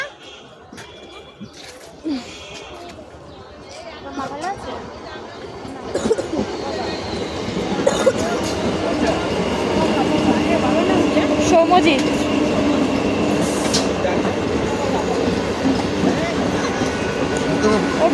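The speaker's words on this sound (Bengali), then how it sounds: "ট্রেন চলে এসছে" A metro train pulls into a station, its rumble and rail noise swelling from quiet to a loud, steady roar over the second half, with voices talking nearby.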